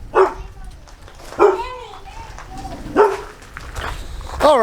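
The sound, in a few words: guard dog barking at trespassers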